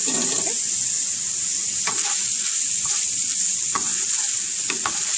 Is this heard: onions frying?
yes